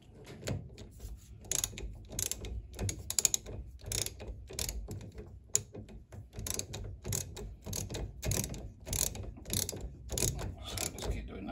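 A ratchet with a 17mm socket tightens a brake caliper bolt on a Mazda MX5 NC, giving steady, rapid, fairly quiet clicking strokes that repeat throughout, with no one talking.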